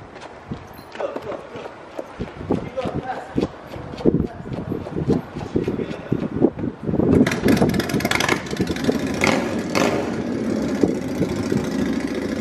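An engine turns over and runs with a rough, uneven rumble, mixed with clattering handling noises and some movement nearby.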